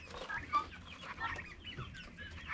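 Four-week-old baby turkeys in a homestead kennel making soft, faint chirping and gobbling calls, with several quick bursts overlapping in a short, busy cluster.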